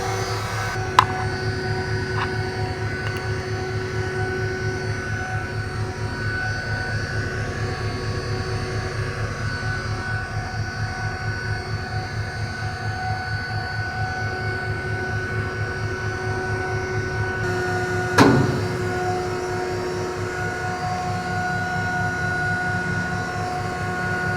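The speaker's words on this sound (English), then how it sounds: "You can hear that the fuel pump's running" Fuel pump running on locomotive 8954 at a railway museum: a steady mechanical hum and drone with a regular pulsing tone, constant throughout, with one sharp clunk near the end.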